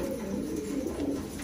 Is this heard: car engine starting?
no